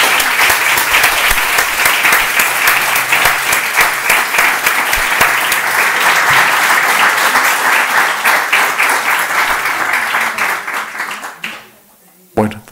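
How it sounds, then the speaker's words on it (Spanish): Loud, sustained applause from an audience at a Spanish spatial data infrastructure anniversary event, dense clapping filling the clip before breaking off abruptly near the end. "quería pediros un aplauso para todos los compañeros que han trabajado en este proyecto"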